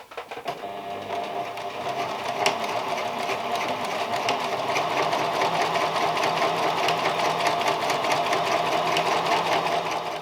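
Sewing machine running steadily, stitching the starched fabric hem of a 1901 Gibson girl evening gown, a fast continuous mechanical whir with rapid needle clatter close by and no talking.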